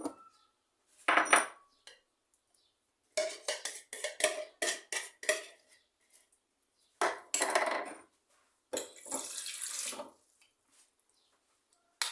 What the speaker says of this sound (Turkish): Bir tane kaşık alayım.